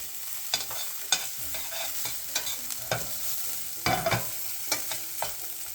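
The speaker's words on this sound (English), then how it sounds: "We'll stir fry that around for a couple minutes" Ginger and lemongrass stir-fry in a hot pan under a steady sizzle, with irregular scraping strokes of a utensil against the metal cutting through now and then, fairly close and with no voices.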